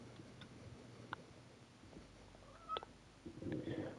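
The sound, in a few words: cat meowing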